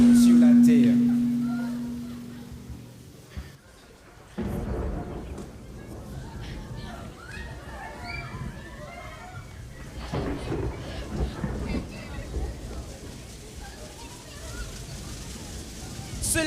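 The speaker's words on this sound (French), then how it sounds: "Le tonnerre gronde. Les éclairs sillonnent le firmament et de grosses gouttes s'abattent sur la terre." Thunder rumbling in a heavy storm with large raindrops pouring down, a loud rolling crash fading into a steady wash of rain and further low rumbles, with narration in the background.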